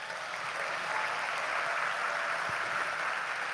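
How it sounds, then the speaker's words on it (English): A crowd applauds steadily at a Dr. MLK Jr. celebration at the Brooklyn Academy of Music, a dense wash of clapping hands that holds at an even level throughout. "Please just give her a round of applause."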